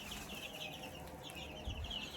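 Chickens in their coop give soft, faint clucks and rustling, close but quiet, with a low bump near the end and no talking.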